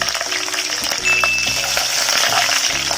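Lemongrass, bay leaves and lime leaves sautéing in hot oil, a steady close sizzle and crackle with light stirring scrapes, loud and continuous without talk.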